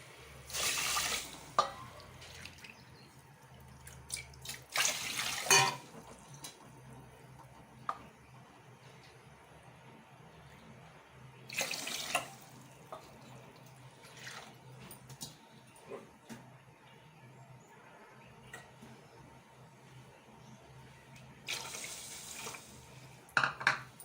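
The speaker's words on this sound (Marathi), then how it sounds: "4 वाटी आपल्याला पाणी टाकायचं आहे यात" Water is poured onto sugar in a pot to make syrup for ras malai, four cups of water to one of sugar. Several separate splashing pours sound at intervals, with quieter clinks and handling in between.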